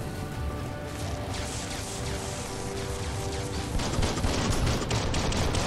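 A gun firing in Biomutant gives a continuous stream of rapid shots with a crackling, rain-like texture, loud and steady throughout and growing slightly denser near the end.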